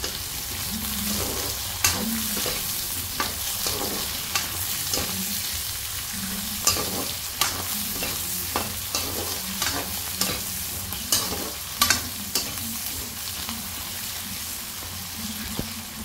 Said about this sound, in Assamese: আলুখিনিও অকণমান ভাজি লওঁ।